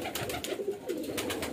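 Highflyer pigeons cooing, heard as a few soft, low, rolling coos close by over a steady outdoor background.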